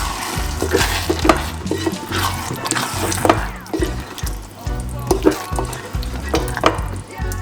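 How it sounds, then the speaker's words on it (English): Chopped tomato stirred into eggplant frying in a pan, with a steady close sizzle broken by repeated scraping and clacking strokes of the spoon throughout, no talking. "put that chopped tomato inside of it. Give it a mix."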